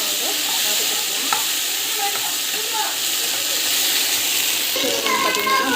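Ingredients sautéing in a pan make a loud continuous sizzle and hiss, with scattered scrapes and taps of a stirring spoon throughout.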